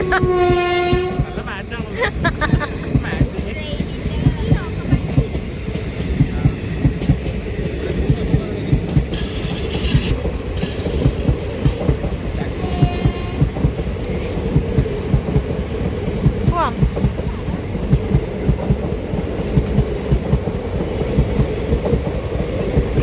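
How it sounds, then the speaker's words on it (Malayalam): A long train rumbles steadily past for the whole stretch, wheels clattering over the rails, with a horn blast near the start and faint voices underneath. "പോയി തീരുന്നില്ല ട്രെയിൻ."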